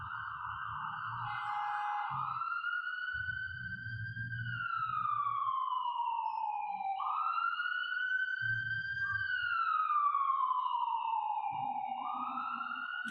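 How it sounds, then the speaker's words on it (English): A siren wails in long, rising and falling sweeps from a moderate distance, with patches of low traffic rumble beneath it. "like that siren."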